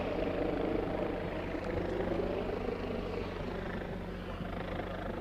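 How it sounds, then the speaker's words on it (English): Helicopters' low rotor drone hangs steadily over a protest at the Rhode Island State House, a continuous distant rumble overhead with faint crowd noise. "helicopters are above the State House right now, if you can hear that in the background."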